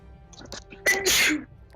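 A single sharp sneeze bursts out close by in a quiet room during a tabletop role-playing game session, followed by a brief pause.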